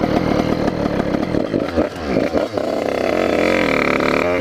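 50cc motorcycle engine starting and settling into a raised, buzzy two-stroke-style idle, loud and close with a revving surge before holding steady.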